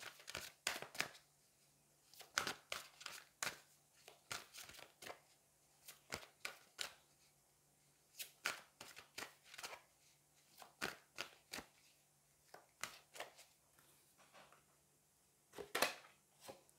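Angel oracle cards being shuffled by hand at close range, coming in quick irregular bursts of riffling and flicking separated by short pauses, crisp and fairly quiet over a faint steady hum.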